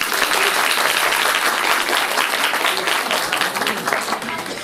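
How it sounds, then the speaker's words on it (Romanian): A comedy show audience in a hall applauds the women present, a thick continuous wash of clapping with faint voices mixed in, steady throughout and tapering near the end. "Vreau să-mi aplaudi, să-mi aplaudați toate fetele din sală"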